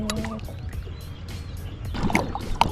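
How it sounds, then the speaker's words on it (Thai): Kayak paddle strokes splashing and dripping in water nearby, with gentle sloshing and a few knocks against the hull; no speech. "เราจะต้อง พายไปหาแดด"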